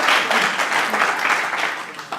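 Steady applause from an audience at a policy event on the federal landscape and Cuba, a dense, even wash of many hands clapping that carries through without a break.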